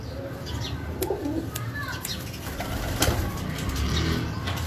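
Faqir Gul pigeons coo and call close by in a Karachi loft, soft repeated coos mixed with chirps over a low background rumble, with people talking alongside.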